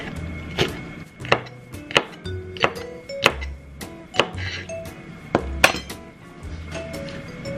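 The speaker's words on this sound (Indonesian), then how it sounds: "setelah iris bawang bombay dan paprikanya, kita tambahin 2 cabai diiris" Knife chopping onion and bell pepper on a cutting board, a steady series of about a dozen sharp, close thunks with a slightly irregular rhythm and no talking.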